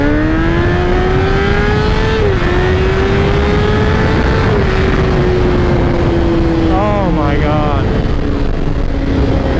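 A 2017 Honda CBR1000RR motorcycle pulls hard in first gear, its engine note loud and steady throughout with a rising, slightly wavering whine, while a voice talks briefly over it.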